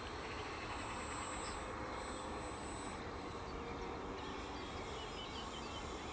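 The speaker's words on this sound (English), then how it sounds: "a relaxed flying little model plane" A 1.4 meter wingspan Piper Cub model airplane flies steadily overhead, its small engine a constant distant drone over outdoor wind noise for several seconds.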